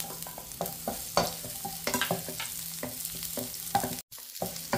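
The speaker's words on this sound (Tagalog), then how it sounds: "Ikigisa na natin dito. Pagsamahin ko na yung bawang at sibuyas." Garlic and onion sauté in oil for a pork liempo adobo, crackling and sizzling close up while a utensil stirs and scrapes the pan in uneven strokes. A brief dropout near the end breaks the sound, and no one speaks.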